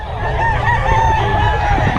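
A rooster crows amid the steady bustle of a Bocaue chicken market, its call blending into constant crowd noise and other fowl sounds at moderate loudness.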